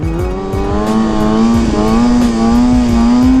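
A loud, close 2020 Kawasaki 636 sport motorcycle engine revving hard, its pitch climbing, with a quick auto-shift and rapid popping exhaust pulses underneath.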